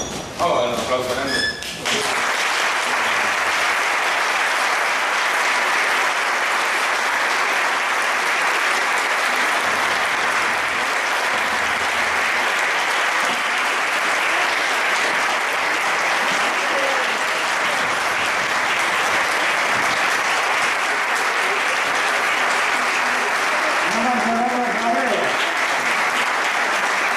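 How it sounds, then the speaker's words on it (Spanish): A large audience applauds loudly and steadily, a dense wash of clapping sustained for nearly half a minute with brief speech at the start and near the end. "vamos a dar un aplauso grande"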